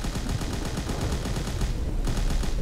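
Continuous rapid gunfire from the StreetRoyaleZ battle royale video game, a loud, dense burst of automatic shots that fires steadily throughout with no talking.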